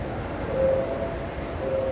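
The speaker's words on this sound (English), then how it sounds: "Airport rail link." Steady low rumble of the Bangkok Airport Rail Link train on the lowest level of the station, with a faint tonal whine rising briefly now and then over a constant hum.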